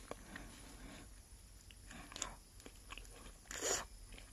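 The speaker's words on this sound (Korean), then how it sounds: "하나 더 먹어보겠습니다" Crisp crunching bites into raw Isatrix vegetable, a few soft chews and one louder crunch near the end, close and alone with no talking.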